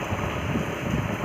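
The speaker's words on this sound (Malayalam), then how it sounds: "ഭയങ്കര കാറ്റ്, ഭയങ്കര കാറ്റ്," Strong wind blows outdoors, heard as dense, continuous buffeting roar against the microphone. It stays loud and steady throughout, with no speech.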